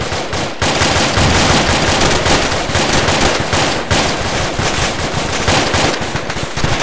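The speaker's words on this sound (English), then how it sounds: "We are taking so much fire!" Dense, loud automatic gunfire in a video game set in Sangin, continuous rapid bursts with brief pauses, heard close without talk.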